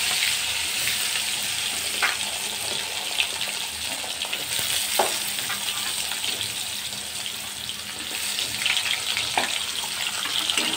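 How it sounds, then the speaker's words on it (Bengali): Potatoes frying in a pan for a Bangladeshi surma fish dish give a steady, close sizzle with a few sharp clicks of stirring, no voices over it. "এখন আলুটা ভাজলাম।"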